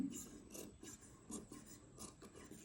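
Scissors cut fabric for a wrap-style frock in a series of close, rasping snips that come in a steady, uneven rhythm with no talking.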